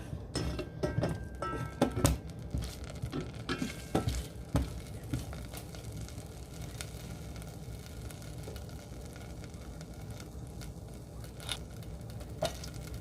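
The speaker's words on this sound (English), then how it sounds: "Let's saute first the garlic." Garlic sautéing in a hot pan gives a steady close sizzle, broken by frequent scraping and clicking stirring strokes that come thickest in the first few seconds. No one speaks.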